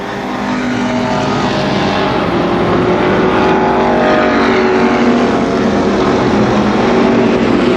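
Race cars lapping the oval at Columbus Motor Speedway, a loud, continuous roar of engines close by that swells and shifts as the pack runs on without a break.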